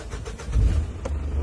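A Mitsubishi Pajero engine cranks and catches, settling into a steady low rumble that rises slightly toward the end.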